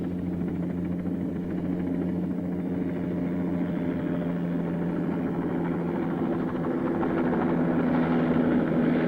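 Helicopter flying forward with its rotor tilted, a steady loud engine and rotor drone with a low rhythmic beating, continuous for several seconds and heard alone.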